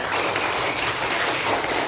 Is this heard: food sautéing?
no